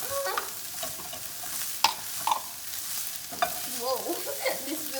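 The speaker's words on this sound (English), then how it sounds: "now we're gonna mix that up a little" A spoon stirs stroganoff seasoned with pepper and Italian seasoning in a pan; soft scraping and sizzling with a few sharp clinks against the pan, close and fairly quiet, with no talk.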